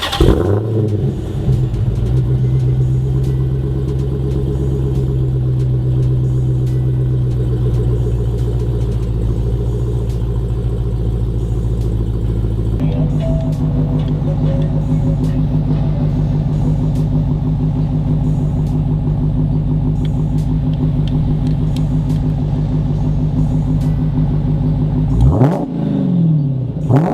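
A Dodge Challenger Hellcat muscle car drones steadily while driving, its deep engine note holding even, stepping up in pitch after a gear change and swelling into a sharp rev near the end.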